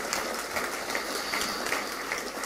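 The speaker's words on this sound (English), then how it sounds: "let's all again give him a round of applause" A hall audience at a Hall of Fame ceremony gives a short burst of applause, honouring a High Commissioner on his birthday; the clapping is close, busy and fairly loud, with no speech over it.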